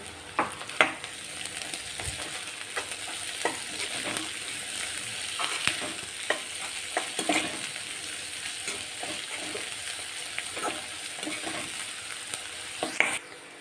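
Green onion tops sauté in a pan after the onions have browned, producing a steady close sizzle broken by repeated light scrapes and taps of a stirring spoon.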